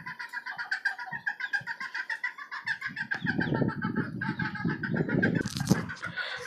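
Chickens and young chicks in a cage on a poultry farm, steady high peeping and clucking running throughout, with louder rustling and scratching movement joining in the second half, no talk.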